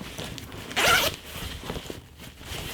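Zipper on a Herring Clapham holdall pocket pulled in one quick, loud rasp lasting about a third of a second, close up, followed by quieter handling rustle of the bag.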